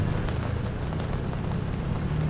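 Rain falling on a street in Baguio, a steady, dense patter and hiss of drops on surfaces, continuous and moderately loud throughout.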